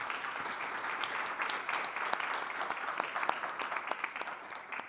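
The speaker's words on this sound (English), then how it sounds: "Can we give her a round of applause?" A conference audience gives a speaker a round of applause, a dense close wash of clapping with sharp individual claps poking through, holding steady for several seconds.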